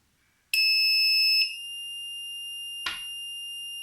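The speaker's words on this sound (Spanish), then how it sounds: "Se escuchó el buzzer y ahí nos marca la continuidad el multímetro" A magnetic car immobilizer's buzzer sounds a loud, steady electronic tone the moment its relay contact closes the circuit, dropping slightly in level after about a second and continuing, with a short click partway through.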